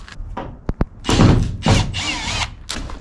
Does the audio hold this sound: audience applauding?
no